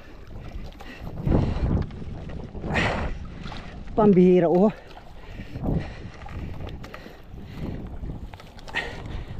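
A fishing boat's faltering engine runs at sea in the Pacific as a low, steady drone under wind noise and water, with people talking and exclaiming over it.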